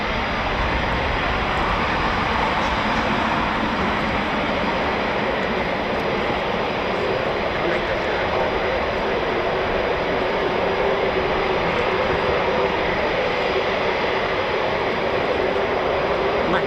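A Eurofighter Typhoon FGR4 jet at an RAF display roars overhead as a loud, steady, broadband engine rush that fills the whole stretch without a break, close and powerful.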